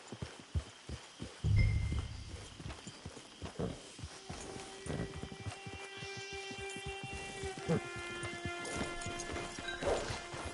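Hooves clip-clop at a steady walking pace in the video game Red Dead Online, with a few heavier thuds and faint tonal hums in the background.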